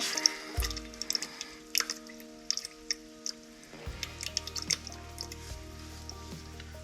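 Green 50/50 antifreeze drains from a Massey Ferguson compact tractor in small wet drips and squishy splashes, quiet and close, over a faint steady hum.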